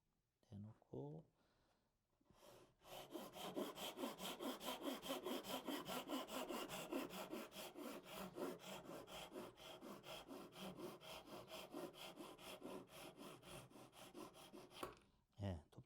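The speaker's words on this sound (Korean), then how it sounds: "톱질 이렇게 했고요" Hand saw cutting wood for a three-way mitred joinery joint: a long run of rapid, rhythmic rasping strokes, close and fairly quiet, with a few brief knocks before and after and someone speaking briefly.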